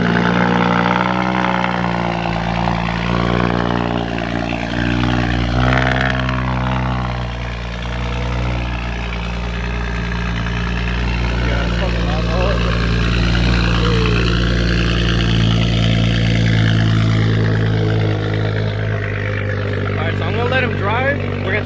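A BMW 335i with the N54 engine, several days unstarted, firing up and running loud; a deep rumbling idle with revving swells continues throughout while people talk nearby.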